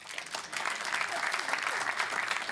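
Audience applause at a live panel discussion on war, wages and workers' rights, a sustained dense clapping that swells in and holds loud throughout.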